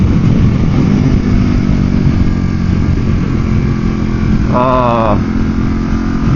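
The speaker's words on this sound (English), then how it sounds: "I love the sound of that engine gurgling." A Harley-Davidson Pan America motorcycle engine rumbles steadily at cruising speed on an open road, loud and continuous with heavy wind noise.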